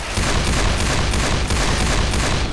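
Dense, continuous rapid gunfire in Left 4 Dead 2 during the Dark Carnival coaster stage, loud and close, hammering steadily without pause.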